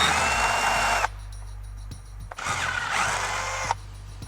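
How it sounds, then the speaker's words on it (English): Power drill with a properly sized bit boring holes through a Ram truck's plastic dash, two loud whirring bursts separated by a short pause, close up with no talk. "you can go ahead and finish it off with the proper size drill bit"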